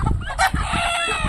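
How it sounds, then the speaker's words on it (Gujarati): A Kadaknath rooster crows on a farm, one short, close, harsh call lasting about a second, with a brief sharp note partway through. "કડકનાથ"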